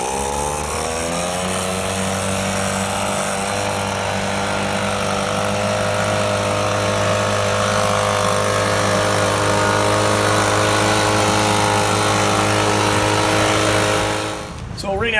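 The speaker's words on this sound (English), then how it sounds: "we're just going to use the handheld blower to blow free clear of the dirt and debris" Handheld blower clearing dirt and debris from a pavement crack during hot rubber crack sealing, a loud, constant engine roar held close for the whole stretch before fading out at the end.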